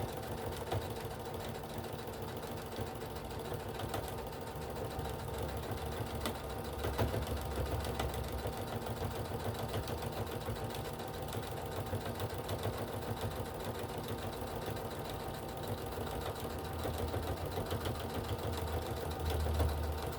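A sewing machine back-stitches thread while sewing a walker caddy, giving a faint, steady motor drone that runs unbroken throughout.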